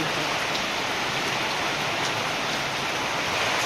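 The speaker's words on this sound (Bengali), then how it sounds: "বৃষ্টি নামতেছে না, বৃষ্টির শব্দ পাইছেন?" Steady heavy rain pours down in a dense, unbroken hiss that stays loud and even from start to finish, with no voices.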